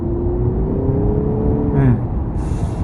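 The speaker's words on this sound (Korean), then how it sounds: "상당히 그 다이나믹함을 느끼게 하는 엔진 사운드가 쭉쭉 뻗어 나온다고 볼 수 있겠어요" A 2021 Honda Accord Hybrid's engine revs up with a rising, steady tone, then drops off, with a brief hiss near the end.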